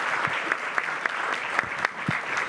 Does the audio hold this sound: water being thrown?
no